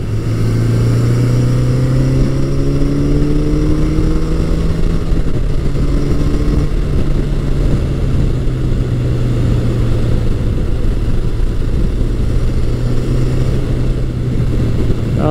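A Yamaha FJ1200 standard-style motorcycle cruises at highway speed above about 65 mph, its engine holding a loud steady drone with slight pitch shifts, layered under heavy wind blast.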